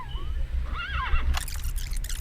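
A horse neighs in the Metal Gear Solid: Peace Walker video game, a clear whinny that rises and wavers, then breaks into a brighter, shrill cry over a low steady rumble, with no talk.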